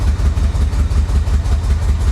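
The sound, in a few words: 1985 Chevy Corvette engine revving as throttle is hit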